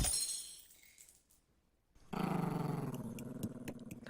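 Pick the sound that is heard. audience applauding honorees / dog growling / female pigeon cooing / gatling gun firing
dog growling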